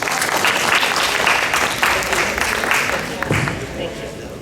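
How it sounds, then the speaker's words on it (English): Applause from an audience for councilmembers at a humanitarian walk-in-silence program, a steady broadband patter of many hands held for several seconds at moderate level, with a voice briefly rising near the end. "We should give them all a round of applause."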